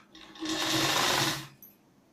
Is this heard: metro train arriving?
no